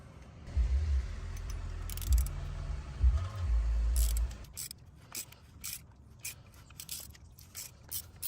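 A 17mm wrench works the belt tensioner loose on a Mercedes E350 engine, with a deep rumbling strain for several seconds, then a run of sharp mechanical clicks and ratcheting taps at close range.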